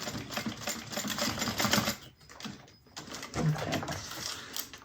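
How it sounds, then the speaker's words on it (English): A sewing machine stitches a clutch bag, running in steady rapid bursts for about two seconds, pausing briefly, then resuming for the rest of the clip, with a short spoken word in the gap. "that's where I'm going to start to sew up"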